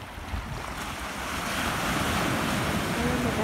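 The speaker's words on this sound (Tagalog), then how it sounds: "Maganda nga ngayong araw, maaraw at saka mahangin oh." Wind buffets the microphone over a steady roar of surf at Horseshoe Beach, Bermuda, growing a little louder partway through, with no talking.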